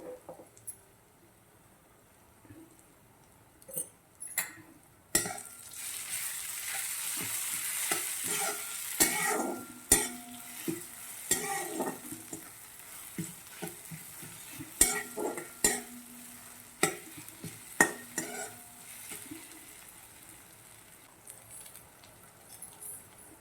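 Purple yam sabji frying in a pan while salt goes in, a steady sizzle that swells after the first few seconds, broken by repeated sharp scrapes and taps of a spoon stirring close by.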